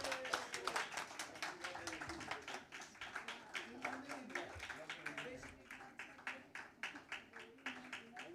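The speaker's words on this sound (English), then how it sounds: "Please give a big round of applause for him." A conference audience applauds its convener at a medical gathering in Mumbai, steady dense clapping throughout that thins toward the end with a few distinct claps, while a voice speaks faintly beneath it.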